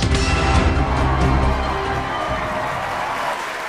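An audience at the Meril Prothom Alo Award 2016 ceremony applauds and cheers, a loud dense wash of clapping and whoops that eases slightly after the first second and a half but keeps going.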